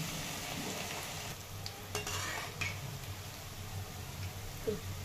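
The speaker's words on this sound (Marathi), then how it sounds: "तेल छान गरम झालेलं आहे. तर आता हे भजी करून घेते." Onion pakoda batter frying in hot oil, a quiet steady sizzle with a few light utensil scrapes and clicks in the pan.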